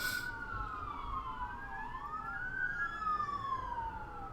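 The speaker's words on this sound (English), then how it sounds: "There's an ambulance going by." An ambulance siren wails in rising and falling sweeps as it passes at a distance, faint and steady over a low background rumble.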